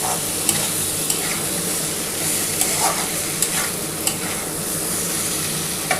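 Spice paste for katla fish curry with potato and pointed gourd sautéing in a pan, giving a loud, continuous sizzle broken by faint, regular taps from stirring.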